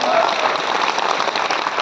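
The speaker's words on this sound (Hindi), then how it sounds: "एक बार उसके लिए भी जोरदार ताली।" An audience at an Indian business gathering breaks into loud, dense applause, a steady wash of clapping throughout.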